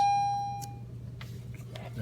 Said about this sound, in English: That was the late bell.